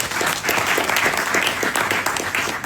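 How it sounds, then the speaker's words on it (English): A crowd applauds steadily and loudly, dense clapping filling the whole stretch without pause or voices. "give yourselves a round of applause"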